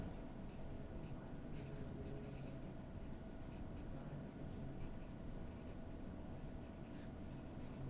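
A pen scratches steadily across paper while working through a probability distribution in a maths lesson, a continuous soft writing noise over a dense room hiss with no clear speech.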